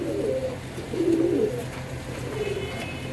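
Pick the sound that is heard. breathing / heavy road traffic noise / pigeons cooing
pigeons cooing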